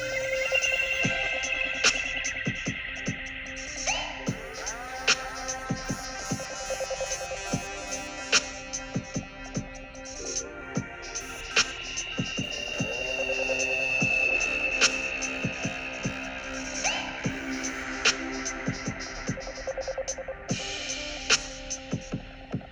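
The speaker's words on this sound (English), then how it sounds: "I'm just going to dial a few settings as this plays on my filter cutoff, resonance, and gate" A synth clip plays for over twenty seconds as its filter cutoff, resonance and gate are adjusted with a Push controller, sustained tonal notes with sharp gated attacks and a timbre that sweeps brighter and darker over time.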